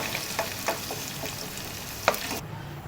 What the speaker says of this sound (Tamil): பன்னீர் இப்படி லேசாக வறுத்துட்டு எடுத்துக்கலாம்